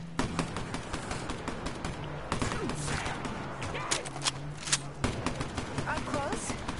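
Rapid shotgun blasts in a video game, bursts of sharp close gunfire clustered together over continuous combat noise, with voices talking over it.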